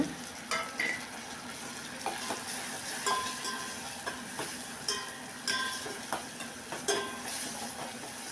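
Tomatoes sauté in a pan for a tamarind gravy, giving a soft continuous sizzle punctuated by regular clinks and scrapes of a spoon stirring against the pan. The sound is quiet and close, with no speech.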